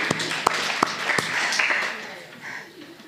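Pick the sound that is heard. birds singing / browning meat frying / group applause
group applause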